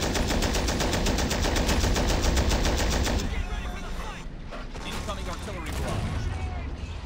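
Sustained machine-gun fire rattles loudly in a Men of War: Assault Squad 2 battle, a rapid continuous burst for about three seconds before giving way to scattered shots, clanks and a player's voice.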